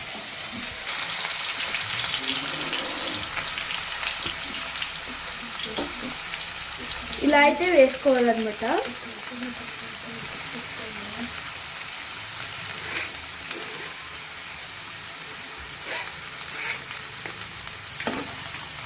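Strained potatoes frying in hot oil over a high flame, a steady sizzle running throughout with stirring and clinks, while someone talks over it.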